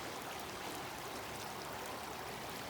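A river flows beside a hiking trail in Jasper National Park, a continuous, even rushing hiss of water, faint but unbroken.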